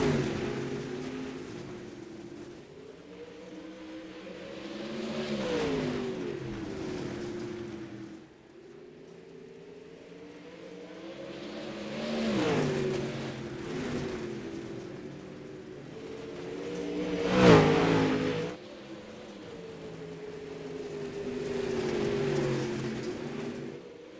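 Dirt late model race car engines at Cedar Lake Speedway in iRacing: several engines drone and rise in repeating swells as cars pass, a steady roar with a louder peak near the middle, no talking.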